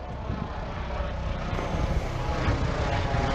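A helicopter's engine and rotor make a continuous, fairly loud drone with a broad noisy roar, holding steady throughout with a faint rise near the end and no talk.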